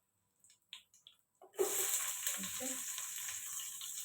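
Onions and potatoes frying for a keema and aloo biryani: a few small clicks and taps, then a sudden steady, loud sizzle that carries on to the end.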